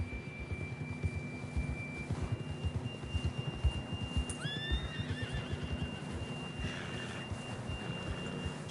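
A horse in the Red Dead Redemption 2 video game neighs once, a rising whinny at mid distance, over a steady bed of hoofbeats and low ambient game sound, with a thin sustained tone at the start.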